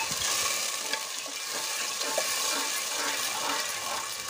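Water poured into frying masala for Punjabi masala matar pulao hisses and sizzles steadily in the pan, a dense continuous crackle close up with no talking.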